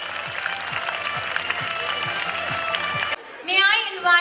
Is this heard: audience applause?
yes